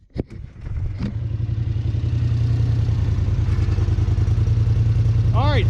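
A motorcycle fitted with an aftermarket exhaust cranks and fires up after a few brief bursts, then settles into a steady, loud, close idle with an even rhythmic pulse, with no talking over it.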